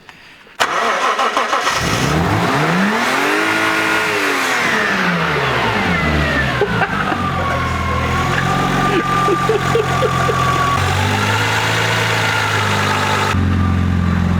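A drift car engine cranks and catches after a brief quiet moment, then settles into a loud, steady idle with rising and falling revs close by, and its belts whine throughout.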